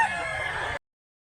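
A rooster among chickens for sale at a market in Mantalungon, Cebu crows once, a loud close sustained call that cuts off abruptly.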